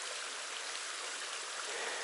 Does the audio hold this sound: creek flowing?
yes